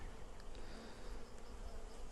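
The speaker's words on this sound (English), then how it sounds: "Now you can see there's not many bees in here." Honeybees buzzing in a queenless hive split during an inspection, a faint steady hum of a few bees continuing throughout with soft background noise.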